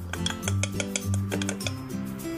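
A spoon scrapes and clinks against a bowl in a steady rhythm while khanom krok rice batter with roasted ground black sesame is stirred. A low hum runs beneath it and no one speaks.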